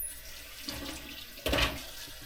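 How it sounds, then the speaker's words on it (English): Water pours into a pot of beans in a short gushing splash that swells briefly then settles into a softer trickle, close by and with no talking. "So I'm going to go ahead and add some water in there."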